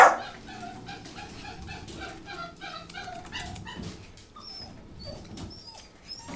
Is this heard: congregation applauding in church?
no